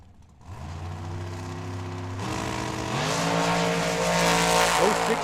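A dragster at Tucson Dragway starts with a low idle, then roars loudly through rising engine pitches as it accelerates near and hard down the strip.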